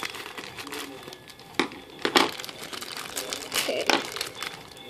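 Foil wrapper of a chocolate surprise egg crinkles and rustles as it is torn open, with sharp crackling bursts up close while someone talks softly over it.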